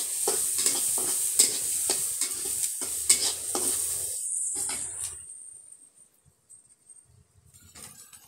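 Chopped figs fry in a pan with a bright sizzle and repeated scraping stirs for several seconds, then the stirring stops and the sizzle fades to near quiet with a few faint clinks.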